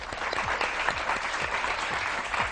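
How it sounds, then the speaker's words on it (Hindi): Studio audience applause on a morning television show, a steady wash of many hands clapping throughout, moderately loud and with no talk over it. "बहुत सारी तालियां जी"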